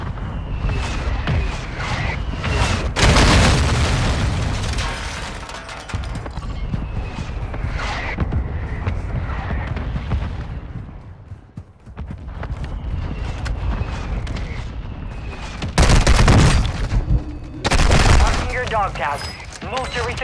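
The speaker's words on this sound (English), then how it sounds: "Mortar strike inbound." Mortar strike explosions and gunfire in a shooter video game, heavy booms and bursts of fire throughout with a few louder blasts near the end, under radio-style voice callouts.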